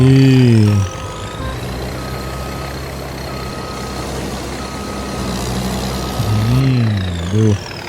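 A combine harvester reversing in the Farming Simulator 22 game gives off a rhythmic string of high beeps over a steady engine drone, with a louder engine rev near the start and near the end.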